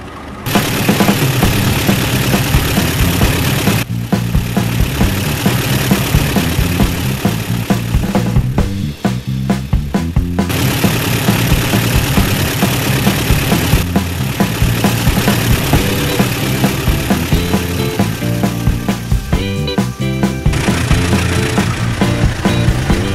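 A train locomotive engine idles in an Indonesian railway video game, its loud, steady mechanical hum running throughout with brief dips where the sound thins out.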